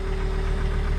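A road roller's engine idles while warming up, a steady low mechanical throb with a constant hum, close and loud, with no talk.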